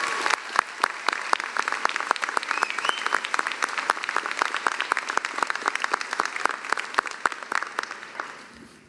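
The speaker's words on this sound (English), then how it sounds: "please, one more round of applause for that fantastic video" Dense, steady applause from a large audience at a medical school white coat ceremony, sustained across the whole stretch and fading slightly at the end.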